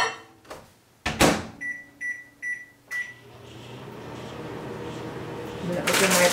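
A microwave oven melting chocolate for chocolate-covered pretzels gives a short run of sharp beeps, then a steady running hum that grows slightly louder toward the end.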